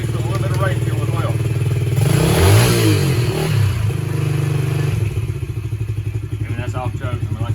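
Yamaha TTR-110 dirt bike running on non-ethanol fuel mixed with race fuel after a carburetor and exhaust upgrade, its small engine idling loud and close with a burst of revving, while people talk over it.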